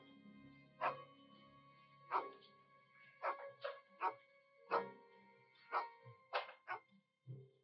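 A dog barks repeatedly in short, sharp, separated barks, about ten over several seconds, clear and fairly close against a quiet background.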